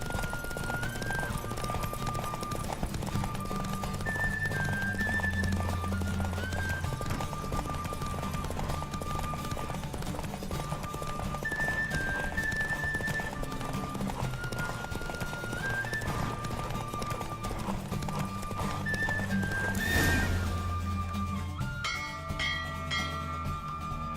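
A galloping horse's hooves clip-clop steadily in The Witcher 3: Wild Hunt, over game music with chiming bell-like tones, one loud accent near the end.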